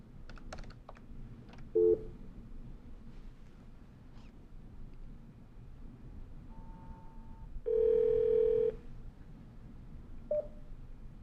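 A Cisco IP Phone 8841 placing a call: scattered soft key presses, brief dial-tone and keypad beeps, then a longer steady tone of about a second, and one short final beep in a quiet room.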